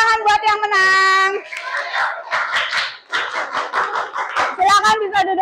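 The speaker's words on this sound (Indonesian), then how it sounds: "Oke, tepuk tangan buat yang menang." A classroom of children claps for the winning group, group 5, in a burst of close, dense applause lasting a few seconds, framed by a teacher's and children's voices before and after.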